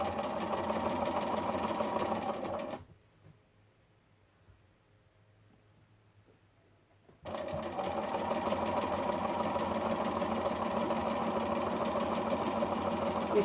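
A sewing machine stitches fabric strips for a scrappy quilt in two long steady runs, buzzing close and continuous, broken by a pause of several seconds of near silence.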